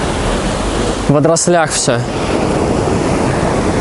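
Sea waves on a beach in Adler, Sochi, a loud, steady rush of surf with wind buffeting the microphone, while someone speaks briefly in the middle.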